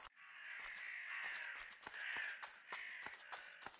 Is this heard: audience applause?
no